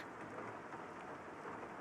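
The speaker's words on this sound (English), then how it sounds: "It's raining?" Soft, steady rain and a low rolling rumble of thunder from the detective game Master Detective Archives: RAIN CODE, forming a faint, continuous storm ambience.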